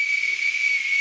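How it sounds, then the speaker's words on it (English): Shrill, steady whistle from a 3D-printed pea whistle with a print-in-place ball, made on a Bambu P1S, held as one continuous breathy tone close up with no voices. "when you catch it right, it sounds exactly like an umpire's whistle"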